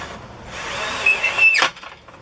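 A power tool drives a screw into a pop-up Aliner A-frame trailer, giving a close, steady whirring buzz that rises in pitch, then stops abruptly as the screw seats.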